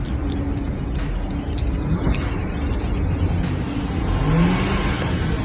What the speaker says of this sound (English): He's literally just driving out of here.